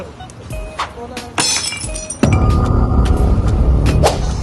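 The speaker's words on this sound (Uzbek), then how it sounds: "Yana nima sindirding?" A loud crash of something breaking, with a sharp impact followed by a rumbling, clattering spill of debris; scattered clinks come beforehand.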